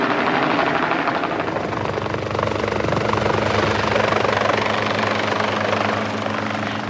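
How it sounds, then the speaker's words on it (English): A helicopter flies nearby, its loud rotor thudding and engine whine steady throughout, swelling slightly in the middle before easing off. "he came flying in with his helicopter"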